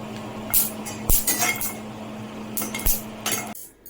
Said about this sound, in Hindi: ये बादाम मुझे चिटकते हैं।